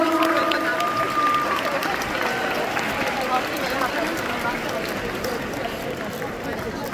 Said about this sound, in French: je vous demande d'applaudir bien fort le jury